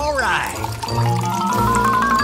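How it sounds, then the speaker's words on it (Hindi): Boiling water pours from above onto noodles in a large pot, a steady liquid rush with a rising fill tone, while someone talks over it. "मैं एक बड़ा बर्तन लूंगी और उसमें अपना नूडल डालकर उसके ऊपर उबलता पानी डालूंगी।"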